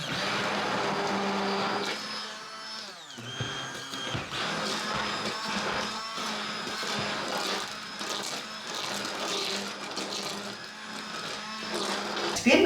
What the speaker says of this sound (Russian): наша задача сейчас это все блендером взбить